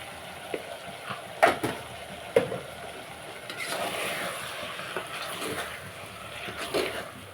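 Mutton frying with ginger paste for a curry: a broad sizzle with stirring scrapes, and a couple of sharp knocks from a utensil early on before the sizzling swells.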